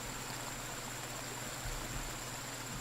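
Steady broadband rush of river water flowing in the survival game BugOut, a continuous even wash with low rumble underneath, no voices.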